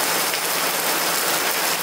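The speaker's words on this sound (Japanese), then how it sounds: "今日の雨はすごく大雨なんで" Heavy rain pours down steadily at a train station, a dense, loud hiss of drops hitting surfaces all around.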